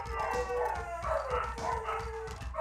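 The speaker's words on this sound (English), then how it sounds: "And the dogs are going nuts." Dogs in the Secret of Mana video game bark and howl in a rapid, overlapping cluster, with loud yips and drawn-out howls running back to back.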